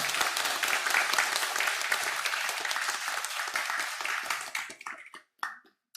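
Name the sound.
church congregation applause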